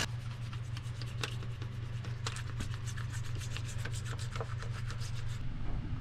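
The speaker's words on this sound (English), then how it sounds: "I'm going to take our bleach, give everything a nice good coating, and then scrub and rinse it all out." Brush scrubbing a bleach-coated compartment aboard a sailboat, producing a continuous, close, gritty rubbing with rapid back-and-forth strokes over a low steady hum, no voices.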